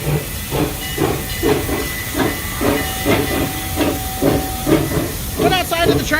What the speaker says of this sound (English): the train is coming by